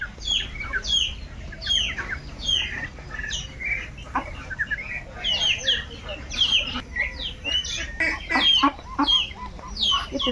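A flock of Chinese ducks calling nearby, with repeated overlapping honking cries in quick bursts, fairly loud and continuing throughout.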